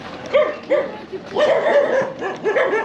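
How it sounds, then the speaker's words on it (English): A puppy gives several short yipping barks and whimpers nearby on a night street, with pauses between bursts. "Ooh, puppy dog."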